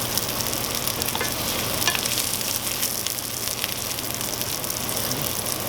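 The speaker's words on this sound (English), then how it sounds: "Seared one side, then I'm going to sear the other" Pot roast meatballs sear in a hot pan, giving a steady, close, crackling sizzle that holds evenly throughout with no voices.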